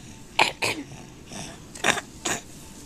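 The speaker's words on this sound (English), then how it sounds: "Can you cough?" A small child makes several short, breathy coughing attempts, about five quick huffs in an irregular rhythm, close by in a quiet room.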